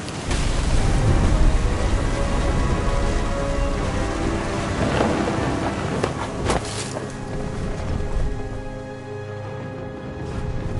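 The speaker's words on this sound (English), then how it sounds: "The thunder sounded much too close and full of angry power." Steady heavy rain with rumbling thunder in the video game What Remains of Edith Finch, a dense continuous wash of rainfall with low booming rolls and a sharp crack near the middle, no voices.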